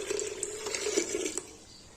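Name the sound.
water being poured into pot of chana masala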